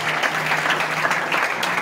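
Church congregation clapping together in a dense, steady burst of applause during a sermon, close and loud, with no talk over it.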